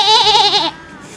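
A woman imitates a goat with a loud, wavering, nasal bleat that lasts about two-thirds of a second, close up, then stops abruptly into quiet.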